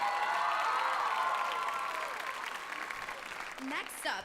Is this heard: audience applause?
yes